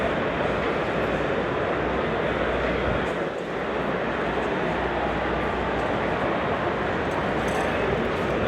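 Dense, steady roar of thousands of people in a hall at the UK Games Expo 2024 board game convention, a continuous loud wash of overlapping chatter and movement with no pauses.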